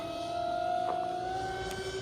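A high, steady electric whine from the twin brushless motors of a Delta Force MK II mono RC boat, pitch gliding slightly upward as it runs nearby.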